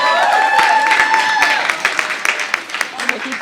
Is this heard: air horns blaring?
no